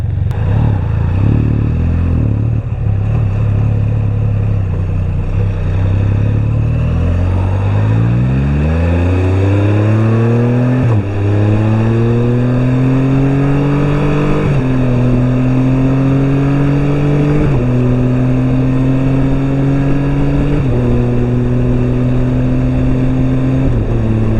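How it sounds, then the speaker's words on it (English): A loud motorcycle engine revs up steadily, its pitch climbing and dropping with each gear shift, close and continuous; adventure motorcycles passing on the road. "We got a couple of sickles coming along. Adventure bikes is cruising it."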